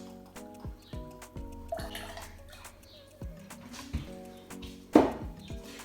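Sugar syrup and lemon juice, 25ml each, go into the tin for a Scotch-based Godfather Sour, a close run of small drips and trickles with one sharper splash near the end, quiet and with no talk.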